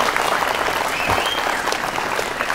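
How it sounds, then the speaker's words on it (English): Wedding reception guests applauding during the toasts, a dense, steady round of clapping that fills the whole moment at close range with a faint murmur of the crowd underneath. "So how about a round of applause for those guys?"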